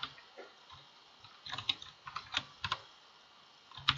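Code being typed on a computer keyboard, soft irregular key clicks in short bursts, fairly quiet and close with no talk.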